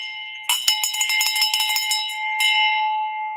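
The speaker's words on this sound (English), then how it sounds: "I might as well just keep this bell in my hand" A hand bell rung repeatedly in quick, bright strokes at a live real estate show, ringing out loud and close for about two seconds, then one more shake that rings and fades.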